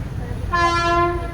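A Vande Bharat Express train horn blares in one sustained tone over the low rumble of the passing train, close and loud.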